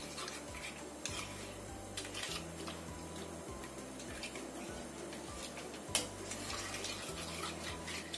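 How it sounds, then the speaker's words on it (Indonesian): Soft repeated scraping and clinking of a utensil stirring an agar mixture in a pot over medium-low heat, a steady rhythmic motion with a faint low hum underneath. "Kita aduk sampai larut agar-agarnya."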